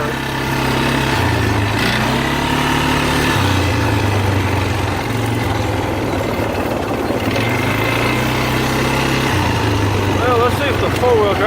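A 2012 Polaris Sportsman 500 ATV engine runs loud and close, its steady drone rising and falling in pitch as the throttle changes, with no gaps throughout.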